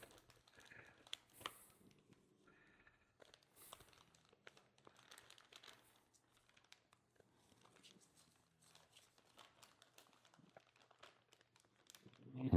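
Soft, quiet crinkling of a disposable plastic piping bag being folded over before frosting goes in, faint scattered rustles with brief louder crackles.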